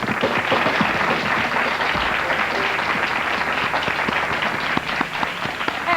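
Steady, dense applause from a studio audience on a Philadelphia local TV morning show, sustained at an even level for the whole stretch, with a brief lull near the end.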